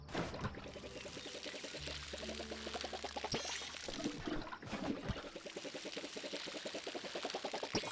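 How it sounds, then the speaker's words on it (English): Water poured from a watering can onto bean plants in the video game Palia, a steady splashing trickle running for several seconds with a short break midway, over light game music. "Now we're going to water them."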